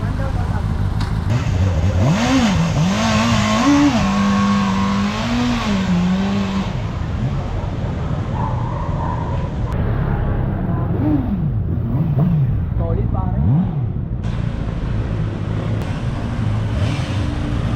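A Bristol Lanselot motorcycle demo unit on its stock exhaust without an aftermarket pipe revs up repeatedly, with rising and falling engine pitch in several bursts, close and loud, while men chat nearby.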